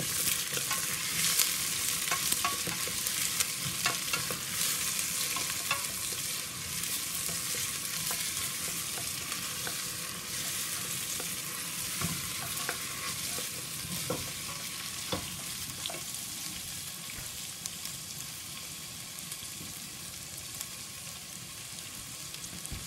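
Onions fry in olive oil in a pan, a steady sizzle going for many seconds with soft scrapes of stirring now and then, and no one talking.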